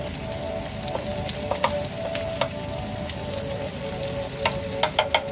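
A little butter sizzles in hot oil in a pan for a fish and vegetable dish, giving a continuous close frying crackle with scattered sharp pops and spits, no voices.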